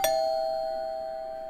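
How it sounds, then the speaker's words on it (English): A single doorbell chime rings out clearly and close, its bright tone sustaining and slowly fading with no other sounds around it. "I had barely hung up for a few minutes when the doorbell rang."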